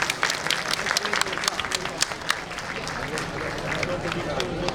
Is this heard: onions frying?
no